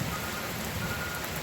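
BB-sized hail pelting down steadily, a dense close hiss of small icy impacts with no pauses and no one talking.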